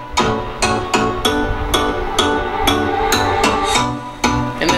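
EDM loop in which a synth bass, a synth and a bottle-like tone play together in a punchy rhythmic pattern of repeated hits, loud and forward, with no talking.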